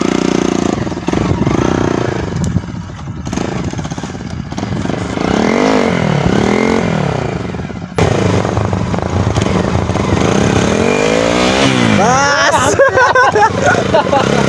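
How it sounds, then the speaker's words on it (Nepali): A motorbike ridden on a road toward Chitlang and Kulekhani, its engine droning steadily and swelling with throttle changes, with voices talking over it throughout. "एकचोटि म यो बाइक एकचोटि चलाउँछु नयाँ समय ल"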